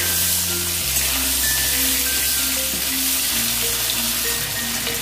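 Loud, close frying sizzle as a little turmeric goes into bitter gourd and potatoes cooking in a pan, a continuous hiss with steady tonal hum underneath, no voices.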